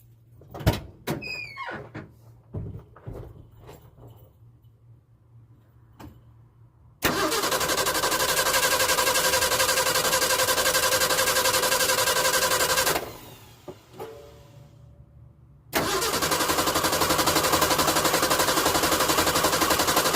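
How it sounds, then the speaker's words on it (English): A car engine starts up after its aftermarket distributor was replaced. A few clicks and knocks come first, then the engine catches and runs loudly and steadily, cuts out for a few seconds, and fires up again. "Fingers crossed that this thing will fire up"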